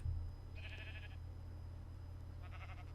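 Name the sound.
sheep bleating in Minecraft video game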